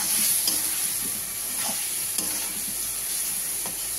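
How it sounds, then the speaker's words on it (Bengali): Fish with salt and turmeric sizzling steadily in a pan, with a constant frying hiss and soft intermittent stirring scrapes throughout, close and fairly loud. "এবার দিয়ে দেবো পরিমাণ মতন হলুদ দিয়ে আমি এটাকে ভালো করে কষাবো।"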